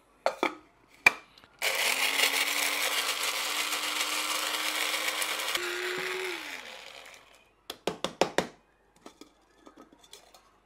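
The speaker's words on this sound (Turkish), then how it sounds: "Ama pul biber, kekik, şekeri biraz incelteceğim." A small electric grinder whirs steadily for about four seconds as chili flakes, thyme and sugar are ground to powder, its motor pitch rising briefly before it winds down, with a few sharp clinks and taps of the lid before and after.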